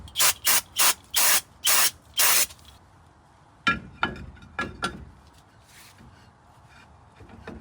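Short hissing bursts of spray cleaner hit the greasy brake of a Land Rover Series IIA, about six quick blasts in a row, followed by a few clunks of parts being handled.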